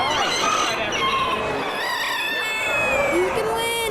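Many roosters crow at a crowing contest, with repeated overlapping cock-a-doodle-doos rising out of a noisy outdoor crowd and some nearby chatter.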